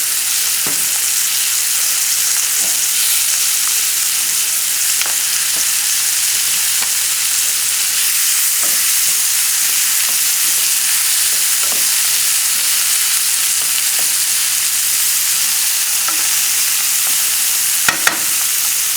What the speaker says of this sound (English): Lower the flame because this side will brown very nicely. Since we have plenty of heat in the pan already